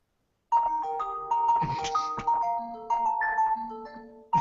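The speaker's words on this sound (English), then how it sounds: "That was my ringtone." A mobile phone ringtone plays a bright, tuneful melody of repeated electronic tones, fairly loud and close after a short silence, continuing steadily to the end with no talk over it.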